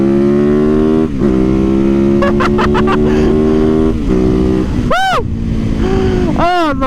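A motorcycle engine revs hard during a wheelie, loud and close, holding a high steady drone between quick throttle blips and falling, swooping pitch changes.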